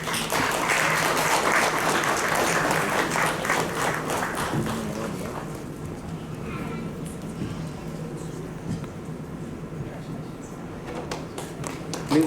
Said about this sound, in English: Please give a big hand. You'll have to clap for a long time.